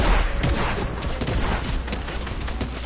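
Rapid volleys of video-game gunfire from an airstrike rattle on continuously, loud and close, with sharp overlapping shots and booms forming a dense, unbroken barrage.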